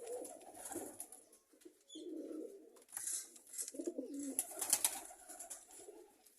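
Pigeons cooing softly in a few separate low, throaty bursts, faint and fairly close, with no talking.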